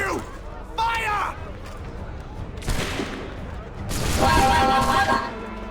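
A volley of gunfire crackles out in a period battle, several ragged bursts of shots with loud sharp cracks and echo, mixed with shouting voices and commotion.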